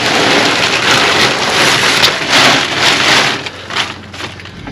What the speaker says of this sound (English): It's starting to rain. Got a few raindrops hitting here.